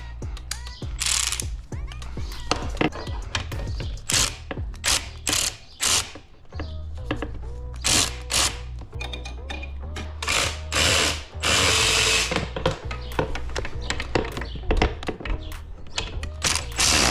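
Ratchet clicking in quick repeated bursts while tightening bolts on an SSR125 dirt bike, close and clear over a low steady hum, with short pauses between runs of rapid clicks.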